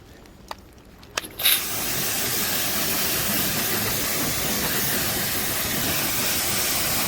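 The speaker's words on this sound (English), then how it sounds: "So now I'm going to hose off the initial snow just to see what we're actually working with underneath" A pressure washer hose sprays snow foam off a car during a mobile detailing job, a steady loud hissing spray starting after a few soft knocks and continuing unbroken.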